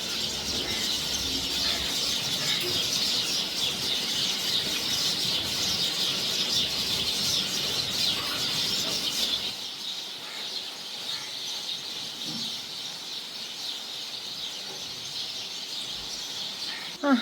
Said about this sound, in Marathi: पण चिमण्यांचा आवाज किती छान येतोय बघा चिवचिव चिवचिव करून सगळं